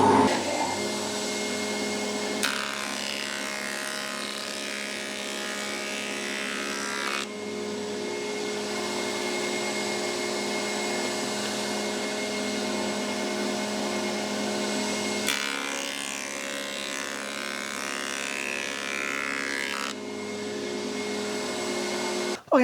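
A planer/jointer with its guard in place runs continuously for a test piece of wood, a steady loud mechanical whine with a broad rougher burst of cutting noise in two stretches, no talking.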